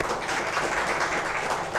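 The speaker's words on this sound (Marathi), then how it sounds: "विनंती तुमच्या सगळ्यांच्या टाळ्या जोरदार व्हायला हव्यात" Steady applause from an audience at a teachers' award ceremony, a dense continuous patter of many hands clapping with no pauses, filling the hall evenly for the whole moment.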